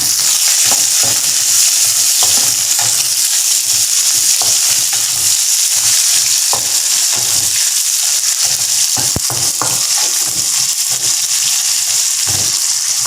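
Curry leaves, garlic, and green and ripe red chilies crackle and sizzle in hot oil in a pan, a loud steady frying hiss with scattered pops and stirring clinks, no talking.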